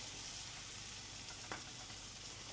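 Pumpkin spice Spam sears in a Teflon pan, giving a steady, faint, close hiss of frying with one brief clink partway through and no talk.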